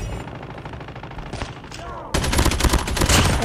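Call of Duty gunfire in gameplay: a softer stretch of muffled rapid shots gives way to a loud, dense burst of automatic fire that continues to the end, with game sounds mixed in.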